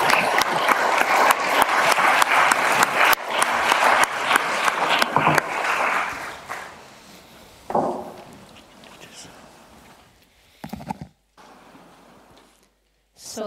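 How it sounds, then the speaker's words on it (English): Conference audience at an architectural education event in Prague applauding loudly and steadily, the clapping fading out midway, followed by scattered quieter sounds and a brief voice. "I would ask the audience for applauding."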